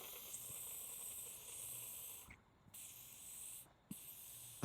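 Air blown through the small carburetor of a lawn mower on the bench makes a steady close hiss, broken by two short pauses, with faint clicks from handling.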